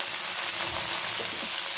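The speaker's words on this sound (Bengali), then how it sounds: "এর মধ্যেই দিয়ে দেবো বিনস, একবারেই ভেজে নেব এটা" Beans and flat beans frying in a pan of oil, a steady close sizzle that stays fairly even through the short stretch, with no voices.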